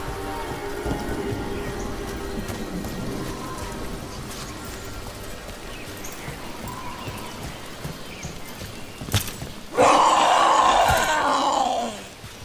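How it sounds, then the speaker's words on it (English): Rain falling in the video game Dragon Age The Veilguard, a steady wash of drops with rumbling undertones, followed near the end by a sudden louder burst of sound lasting a couple of seconds. "if I break my neck climbing up here in the rain"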